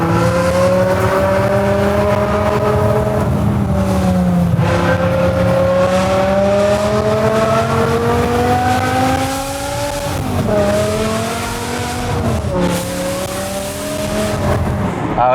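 A big V8 engine in a speedboat revs loudly and continuously, its pitch climbing and dropping in repeated sweeps at close range, with no talking over it.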